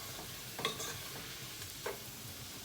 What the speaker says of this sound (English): So while my onions are cooking down, you keep, stir them every few minutes.